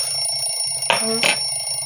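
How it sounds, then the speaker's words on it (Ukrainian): Two short electronic beeps from a kitchen timer ring out over a steady background hum, close and fairly loud. "Таймер."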